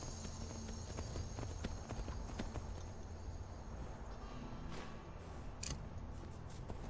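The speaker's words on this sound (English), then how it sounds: "Sprint faster, horsey." Hooves of a horse galloping in Skyrim beat steadily and close over a dense game soundscape of wind and ambient rumble, continuing for several seconds.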